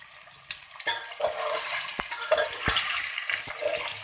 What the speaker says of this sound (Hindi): ये जनाब ऑयल गर्म हो गया है। ऑयल के अंदर डाल दिए हमने आलू।